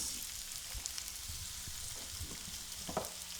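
Chopped onions sautéing in hot olive oil in a pan, a quiet steady sizzle with soft scattered crackles and the occasional light knock of stirring.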